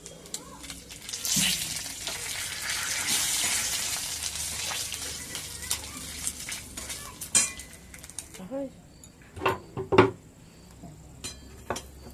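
Five-spice, whole dried chilli and bay leaf hit hot oil for a dal khichdi tempering, raising a bright, close hissing sizzle that fades into scattered clinks and scrapes of a spoon against the pot.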